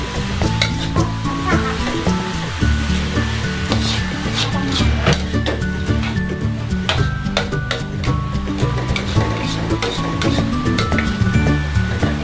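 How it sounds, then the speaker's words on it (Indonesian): Grated young papaya being stirred in a frying pan, a steady loud sizzle with repeated scraping and clinking of the utensil against the pan, no talk. "Setelah itu saya masukkan pepaya mudanya yang sudah diserut tadi, lalu kemudian aduk-aduk hingga sampai merata."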